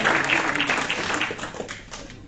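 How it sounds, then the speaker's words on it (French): Audience applause for the 24 teams at an international youth football tournament draw in Dirinon, a dense patter of clapping that is loudest at the start and thins slightly toward the end. "c'est d'applaudir très très fort ces 24 équipes"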